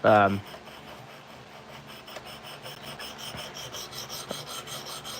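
Steady scraping rasp of CPM Cruwear steel knife blade drawn across a sharpener, continuous low rubbing strokes after a brief louder sound at the start, with faint occasional clicks.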